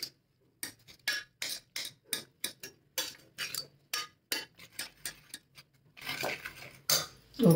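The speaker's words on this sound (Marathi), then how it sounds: "आता ती अशी स्मॅश करून घ्यायची" A spoon mashes pressure-cooked gram greens in a pot, sharp repeated clinks and taps in a quick uneven rhythm, then a denser scraping churn at the end, close up with no voices.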